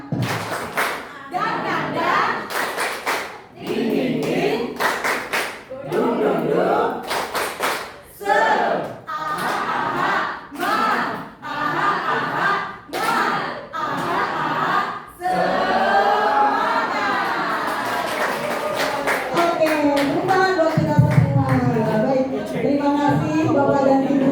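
A group of teachers at a school training session performing a rhythmic cheer clap: sharp claps in patterned bursts with short pauses, followed by voices chanting together, some clapping still mixed in.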